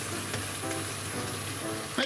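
Pasta sauce with soy sauce simmering and reducing in a pan, a steady close sizzle and bubbling under a soft background tune, ending in a brief louder clatter.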